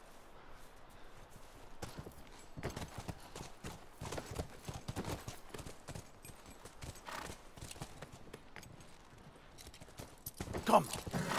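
Horse hooves in The Last of Us video game: faint, irregular clip-clop footfalls plod along at a walking pace with quiet surrounding ambience, getting slightly louder toward the end.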